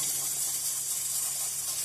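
Chapdi dough pieces frying in oil over a low gas flame give a soft, steady, bright sizzle, faint and continuous with no breaks and no voices.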